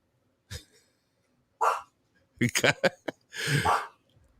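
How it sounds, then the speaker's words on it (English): Dogs bark in the background indoors, a few short separate yaps followed by a quick burst of several barks and a longer final one, fairly faint and distant. "We're getting my dogs in the background."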